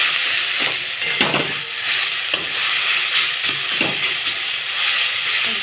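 Ginger, tomato and green chili frying in a pan, a loud continuous sizzle and hiss with a few soft stirring scrapes of a spatula.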